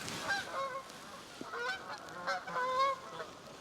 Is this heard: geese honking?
yes